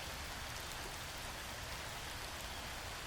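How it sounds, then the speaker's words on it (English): Heavy rain in a field recording, a dense, even hiss of falling water like white noise that holds steady and continuous throughout, quiet in level with no voices or other sounds. "Rain is almost like white noise in a lot of ways. It's a heavy rain."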